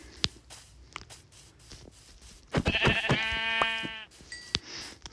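Sheep in the Minecraft video game bleat in a loud, wavering burst of a few seconds, framed by quiet game sounds and a few sharp footstep-like clicks before and after.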